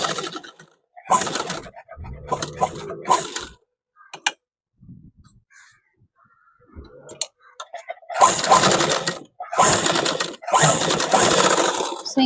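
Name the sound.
sewing machine stitching school shirt collar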